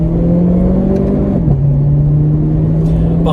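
Renault Clio 4 RS engine droning loudly from inside the car during an overtake, its steady tone dipping briefly at a gear change and then holding a constant hum.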